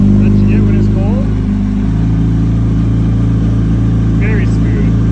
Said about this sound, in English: A little bit of exhaust chop that you get when it's cold.